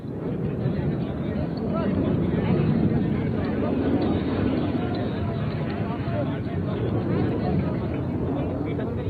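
Military aircraft landing on a highway airstrip gives a loud, steady, broadband roar that holds for the whole stretch, close and powerful, with voices faintly underneath.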